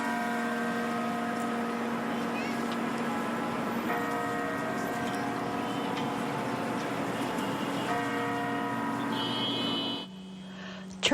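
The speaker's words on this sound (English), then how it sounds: "Churches throughout the Roman Catholic Archdiocese of New York rang church bells today" Church bells ring across Roman Catholic churches in New York, a steady drawn-out peal with sustained overlapping tones and fresh strikes every few seconds, heard from a distance before an abrupt cut.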